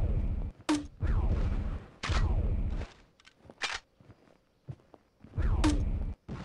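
Gunshots from the battle royale video game Pixel Gun, a few loud bursts of gunfire spaced across the stretch, with fainter thuds and clicks between them.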